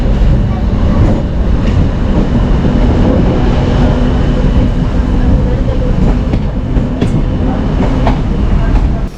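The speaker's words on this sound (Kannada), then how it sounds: "ನಮ್ಮ ಟ್ರೈನ್ ಬರೋದು ಪ್ಲ್ಯಾಟ್ಫಾರ್ಮ್ ನಂಬರ್ ತ್ರೀಯಲ್ಲಿ" A train on the Bengaluru city to airport rail line runs along with a loud, steady rumble and faint clicks from the rails, heard from close by.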